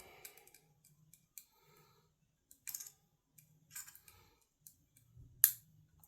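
Seekins PH3 scope mount on a 7PRC rifle giving a few faint, crisp adjustment clicks, spaced apart in short clusters against a quiet background.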